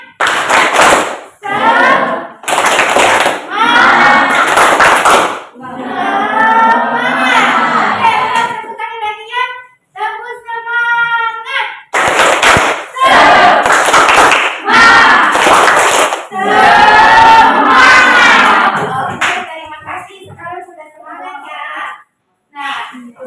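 A classroom of students performs a rhythmic clapping chant, tepuk semangat, with sharp claps in patterned bursts alongside chanted children's voices, repeated twice with short pauses between.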